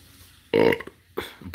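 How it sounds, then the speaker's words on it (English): Loud, close burp erupting in a single sustained belch, followed by a shorter second burp after a brief pause, with no talk over it. "Burping like Izzy."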